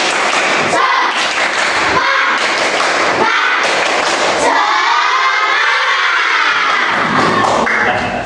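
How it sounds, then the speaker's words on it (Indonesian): A classroom group performs a rhythmic clapping cheer: four sharp, evenly spaced clap beats, then a loud burst of children's cheering and shouting that swells and fades, all close and energetic. "Tepuk semangat."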